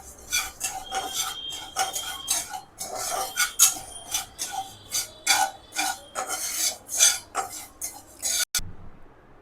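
Cumin seeds and roasted gram stirred with a spoon in a hot pan after the stove is switched off, giving repeated close scraping rasps and clinks against the metal in an uneven rhythm, with no talking.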